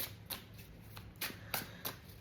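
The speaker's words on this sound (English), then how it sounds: "So I'm going to get a few shuffles" Tarot cards being shuffled, several crisp riffling bursts spaced unevenly over about two seconds, close and fairly quiet against a faint room hum.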